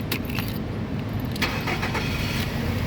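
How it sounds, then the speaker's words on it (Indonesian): Nissan Serena 2.0 Highway Star automatic from 2012 starting up, with a brief cranking burst and the engine catching into a steady idle, heard close, along with some jangling keys. "sekarang kita coba nyalakan mobil."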